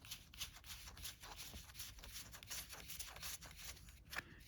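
Cards from the Alone board game core box shuffle and slap softly close by in a quick run of crisp, papery flicks that repeat rhythmically and stay quiet throughout.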